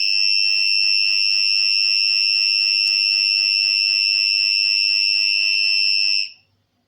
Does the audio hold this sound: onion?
no